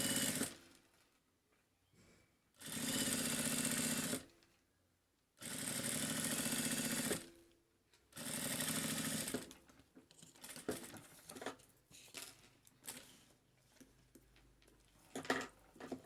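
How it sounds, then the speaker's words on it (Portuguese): Sewing machine stitching bias binding on a multipurpose organizer, three loud bursts of rapid stitching separated by pauses, followed by softer handling clicks and rustles of fabric. "e costuro seguindo a dobra do viés"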